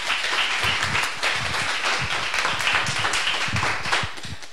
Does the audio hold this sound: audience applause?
yes